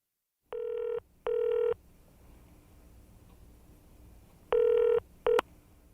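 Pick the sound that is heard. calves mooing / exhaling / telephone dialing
telephone dialing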